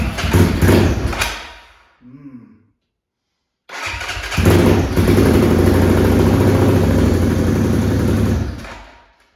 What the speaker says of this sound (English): First test start of our new carb.